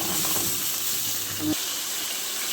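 Chicken strips sautéing in a pan for stuffed potatoes with chicken, a steady close sizzle of frying with a brief lower clatter partway through, under the continuous hiss.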